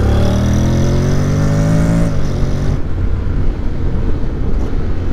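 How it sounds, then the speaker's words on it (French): A 2022 Honda X-ADV scooter fitted with a Barode Raptor exhaust accelerates hard, its loud, close engine note climbing in pitch before dropping off into a rougher rumble after about two seconds. "franchement, ça accélère bien"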